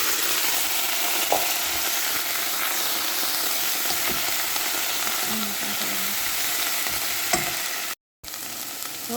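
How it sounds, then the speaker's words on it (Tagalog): Cauliflower is stirred in a hot pot for crab soup, and a steady sizzle and frying hiss run throughout. Small scraping clicks from the stirring sit on top, and the sound drops out briefly near the end. "Mix natin ang cauliflower."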